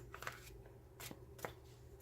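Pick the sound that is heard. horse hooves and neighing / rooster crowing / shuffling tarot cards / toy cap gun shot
shuffling tarot cards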